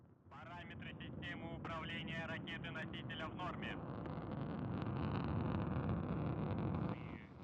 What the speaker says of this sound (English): we have liftoff of the 93 Progress resupply ship to the International Space Station